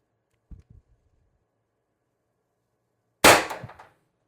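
A TR50 CO2 air rifle fires a single sharp, loud crack up close, preceded by a couple of faint clicks and followed by a short ringing decay.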